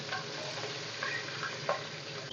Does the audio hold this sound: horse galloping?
no